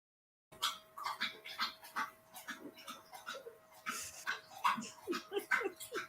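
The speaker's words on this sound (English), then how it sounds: "Y'all hear my dog?" A dog in a crate whimpers and whines repeatedly in short, high-pitched bursts, fairly close, with a steady faint electrical hum underneath.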